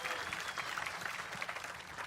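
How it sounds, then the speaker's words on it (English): A crowd applauds at a Bassmaster Elite bass fishing tournament weigh-in on Lake Guntersville, a steady wash of clapping that runs throughout the clip, fairly distant. "let's give him a big round of applause"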